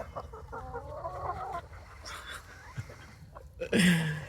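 Chickens cluck softly in the background over outdoor ambience, followed by a louder, sharper squawk near the end.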